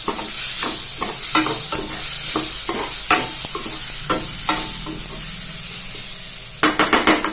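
Leftover rice fried with a little ginger garlic paste in a pan, a sizzle punctuated by repeated scraping and tossing strokes at an irregular rhythm, ending in a quick burst of louder clanks.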